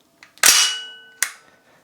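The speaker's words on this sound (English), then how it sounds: "The only way to release the bolt from this position is to press the trigger, and that will cause it to go." Dry firing an open-bolt gun such as a Sterling or STEN: a trigger press releases the bolt, giving a sharp metallic clack followed by a ringing clang, then a second shorter metallic snap, loud and close.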